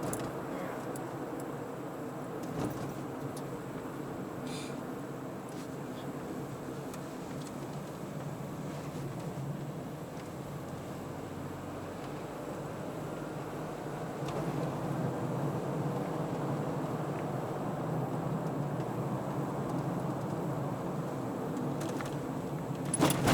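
Perodua Axia 1.0 hatchback cruising at about 60, a steady broadband road and engine drone heard from inside the cabin, swelling slightly louder in the second half with no talk over it.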